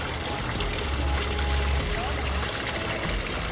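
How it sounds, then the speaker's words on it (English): Running water in a garden park at Sunken Gardens in St. Petersburg, Florida, a steady pouring and trickling wash that continues without a break throughout, close and fairly loud, with a low rumble underneath. "Lots of sounds of running water throughout this whole park."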